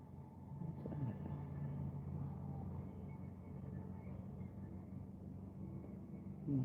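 A car rolls past on a residential street outside, a low steady rumble that holds for several seconds and swells slightly at the end.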